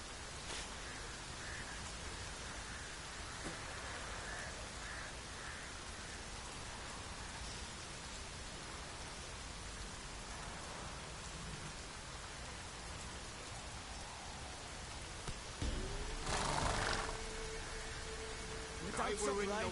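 Continuous rainfall in The Witcher video game, a dense, steady patter of drops heard close and fairly loud, joined late by a short louder burst over the rain.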